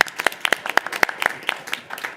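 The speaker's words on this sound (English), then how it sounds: "if we can join in a round of applause" A small group at a board meeting claps in an uneven patter, individual hand claps clearly audible rather than a dense roar.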